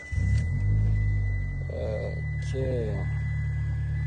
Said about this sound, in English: Let me just switch the vehicle on.